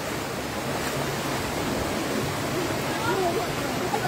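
River water flows with a constant broad rushing wash that is close and even, and a few faint voices sit underneath it.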